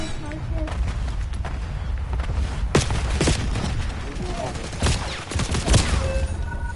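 Steady gunfire in Call of Duty Warzone on Rebirth Island resurgence, with loud sharp shots cracking over a constant rumble of battle noise and a voice speaking at times.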